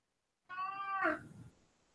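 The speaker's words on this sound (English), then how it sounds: "What was that? That was my cat." A pet cat gives a single clear, close meow with a slightly strained, rising-then-falling tone, heard alone in a quiet room.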